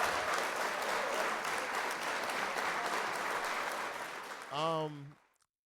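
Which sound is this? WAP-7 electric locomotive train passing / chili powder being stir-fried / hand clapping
hand clapping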